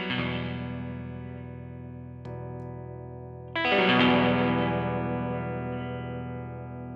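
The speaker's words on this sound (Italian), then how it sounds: "Adesso andiamo a vedere in che modo agisce come booster il Tube Screamer." Electric guitar through an Ibanez Tube Screamer pedal set as a clean booster lets sustained chords ring and decay, then a louder restruck chord swells with thicker mids, played alone through an amp with a short pluck in between.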